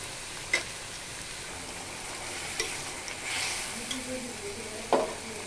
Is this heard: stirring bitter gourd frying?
yes